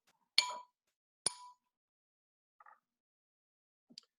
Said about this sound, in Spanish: si golpeo este vaso?